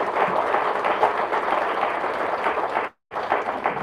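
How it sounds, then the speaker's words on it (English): Audience at an aquarium groundbreaking ceremony applauds continuously, a dense steady clapping that briefly cuts out near the end before resuming. "I want to give him a big round of applause"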